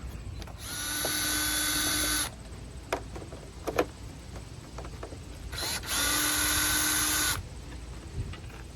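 Cordless power drill backing screws out of a Hyundai Sonata front bumper: two whirring bursts of about two seconds each, close and clear, separated by soft clicks and handling noises.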